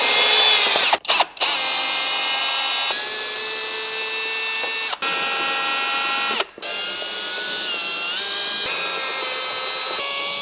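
A power tool runs a bolt out of the air filter housing on a Jaguar XE or XF, a loud, close, steady high-pitched whine that holds for about ten seconds with a few brief cut-outs.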